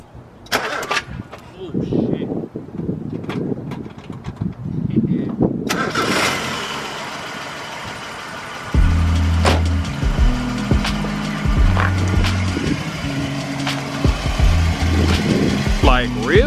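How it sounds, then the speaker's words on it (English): A $1000 1990s Mazda NA Miata with the 1.6 engine. Someone talks at first, then the starter cranks and the engine catches into a steady, close idle with slight rev fluctuations, and talking continues over it. "So now I'm gonna start the Miata just so y'all can see how this thing runs."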